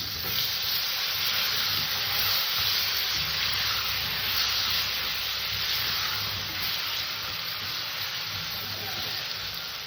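Chopped tomato fries with turmeric in a pan for vegetarian aloo posto, giving a continuous close sizzle and hiss that stays fairly level throughout.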